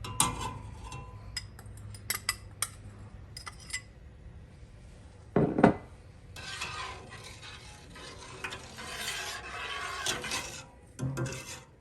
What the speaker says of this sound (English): Add in the spices and stir those in